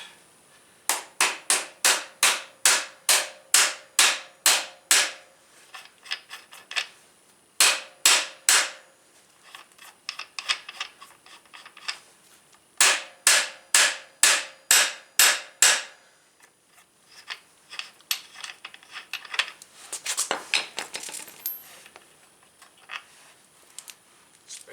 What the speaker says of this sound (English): tap the axle out